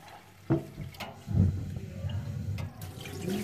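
Water splashing and sloshing as cime di rapa greens are rinsed in a sink or basin, close and fairly quiet, with irregular bursts of pouring and swishing.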